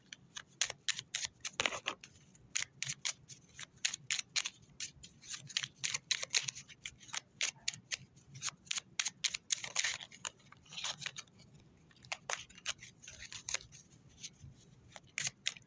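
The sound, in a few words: shuffling tarot cards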